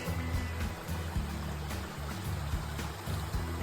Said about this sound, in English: There's Robbins Creek